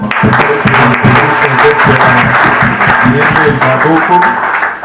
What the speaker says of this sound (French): Est-ce qu'on peut encore acclamer pour